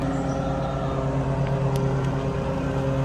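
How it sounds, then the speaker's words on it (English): A lawnmower engine runs steadily nearby outdoors, a constant droning hum at even loudness throughout, with no talking. "Kind of wish this guy wasn't driving the lawnmower over here."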